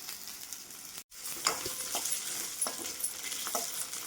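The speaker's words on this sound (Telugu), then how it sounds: "ఈ ఆనియన్ కొద్దిగా ఫ్రై అయిన తర్వాత సన్నం కట్ చేసుకున్న చామగడ్డ ముక్కలు ఇందులో వేసుకొని ఫ్రై చేసుకున్నాం" Thinly cut taro pieces frying with onion and turmeric in a pan, giving a steady quiet sizzle with occasional clinks of stirring. The sound cuts out briefly near the start and then resumes.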